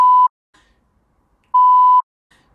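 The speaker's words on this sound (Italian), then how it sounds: "ce l'ho il suono del beep" Two sharp, loud censor beeps, a short one and then a longer one after a pause, with near silence between.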